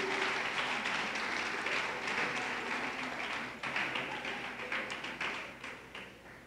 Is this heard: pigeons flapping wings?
no